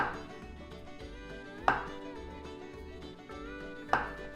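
Butter is cut into quarter-inch cubes on a board with a knife, giving a few sharp, isolated chopping knocks over a faint, quiet kitchen background.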